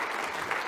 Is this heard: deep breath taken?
no